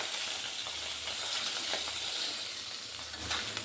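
Pabda fish pieces frying in hot oil give a steady, close, bright sizzle with a soft crackling hiss throughout and a few faint scraping stirs, with no talking.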